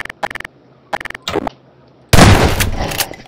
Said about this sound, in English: Stop shooting the barrels.